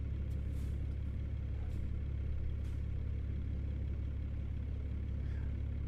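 A 750 hp truck engine with a C12 straight-pipe sound pack in American Truck Simulator drones at a low, even rumble throughout, fairly quiet and unbroken, with no talking over it.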